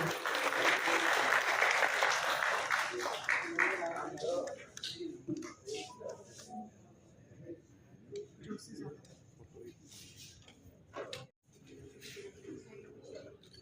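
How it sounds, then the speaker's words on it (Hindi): Applause from the audience at a national women's empowerment award ceremony in Delhi, loud and broad for the first four seconds, then thinning into scattered claps and murmuring voices. "एक बार जोरदार तालियां हो जाए उनके लिए।"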